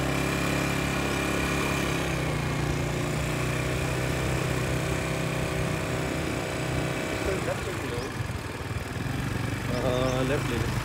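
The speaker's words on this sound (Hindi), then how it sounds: "अभी लाला जो है वो राइड करेगा बाइक को इसमें ला रहा है" A motorbike engine runs steadily and close throughout, carrying a rider in Langkawi, Malaysia, with a constant droning hum and wind noise.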